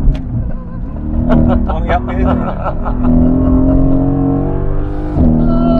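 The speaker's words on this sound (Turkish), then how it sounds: "Susalım, motor sesini dinleyelim." A Mercedes-AMG GT S engine hums and revs on a race track, steady and fairly loud, under people talking close by.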